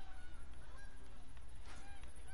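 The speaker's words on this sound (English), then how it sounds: "Oh, never mind, I hear some geese." Geese honking in a hunting video game, a flock calling repeatedly at a distance, faint but clear, with overlapping honks throughout.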